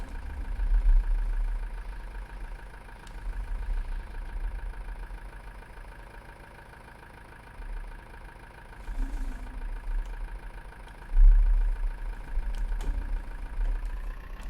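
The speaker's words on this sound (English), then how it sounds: "This tractor does sound good." A tractor engine idles steadily in Farming Simulator 19, a low continuous rumble with a few small surges, running alone with no talk.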